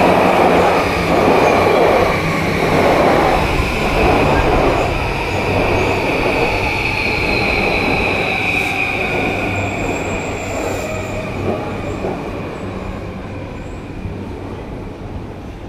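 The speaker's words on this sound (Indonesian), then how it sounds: "Kereta di atas." A train rumbles past close by overhead in Japan, a steady heavy roar of wheels on rails with a high metallic squeal drifting across the sound.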